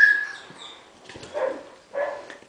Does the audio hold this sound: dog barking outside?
yes